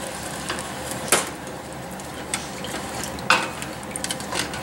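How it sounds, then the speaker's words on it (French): A pan of beef short ribs being deglazed with broth, a utensil scraping the browned beef juices off the bottom, giving soft sizzling and a few sharp metallic scrapes and clinks, close and fairly quiet. "Je déglace un peu ma poire, je gratte le fond pour dégager tous les sucs du bœuf"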